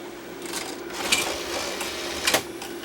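The tape mechanism of a Sony BVW75 Betacam SP deck whirs steadily with a few sharp mechanical clicks and clunks as the cassette is ejected, close and moderately loud.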